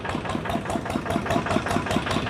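A Thai farm utility vehicle, an e-taen with front-wheel drive, runs steadily with its engine chugging in an even, rhythmic pulse, close and fairly loud, with no talking.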